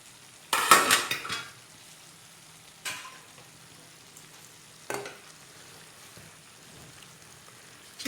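Local chicken curry fries in oil in a pan, giving a short sizzling burst followed by a couple of brief stirring scrapes, with near-silence in between.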